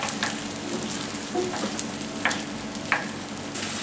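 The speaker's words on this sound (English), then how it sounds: "I'm going to tip that out now." Root vegetables tipped out of a tilting kettle hiss and sizzle steadily, with a few scattered clatters and light knocks as the pieces slide and drop out.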